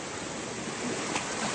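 Cold mountain river water rushing steadily over rocks at the Mata de Plátano river in Jarabacoa, Dominican Republic, a dense, continuous close roar of flowing water with no voices.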